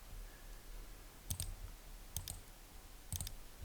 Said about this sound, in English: I'm holding the Shift key down and clicking every single one I want contained within that group